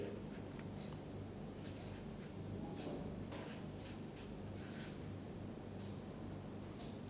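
Chemical structures are written out by hand, pen scratching in short strokes and taps over a constant background hiss, with no speech.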